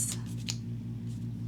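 Scissors snip the excess ribbon from a handmade paper-craft bow, a couple of quick, soft snips close by over a steady low background hum.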